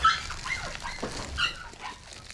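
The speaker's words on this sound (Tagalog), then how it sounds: "pasensya na kayo sa ingay ng mga aso ko, si Chick saka si Soda." Pet dogs at home give high whimpers and short yelps with light pattering, a few scattered cries over about two seconds, fairly close and moderately loud, no talking.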